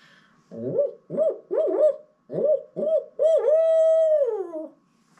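A human voice imitates an owl for turkey hunting with a series of short rising hoots, six or so in rhythm, ending in one long drawn-out wavering call.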